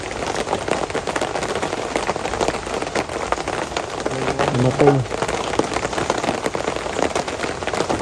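Steady rain patters on surfaces outdoors, a dense, even hiss of drops that continues throughout, with a brief spoken word and a faint tonal sound partway through.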